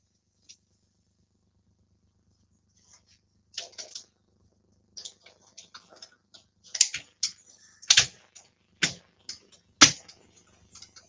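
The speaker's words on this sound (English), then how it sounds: "I know you can hear my die cutting machine making all sorts of noises." A die cutting machine cuts a scrap of white cardstock, giving off a run of sharp, close cracking and clicking pops, sparse at first and then denser and louder, with a faint low hum underneath.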